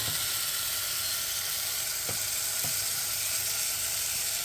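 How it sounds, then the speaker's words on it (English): Spiced summer fruits sauté in a pan with a steady, soft sizzle, broken by a couple of brief knocks, close by and without voices. "This needs to be sauteed a little bit more"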